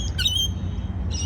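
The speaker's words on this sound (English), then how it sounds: "enjoying the morning sun and listening to the birds tweeting." Birds chirp and tweet in a park by a river, short high calls over a steady low outdoor rumble.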